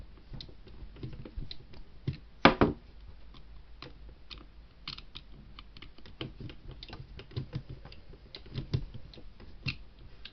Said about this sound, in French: on va tenir le châssis en même temps qu'on visse pour pas que le châssis bouge lors de l'opération de vissage.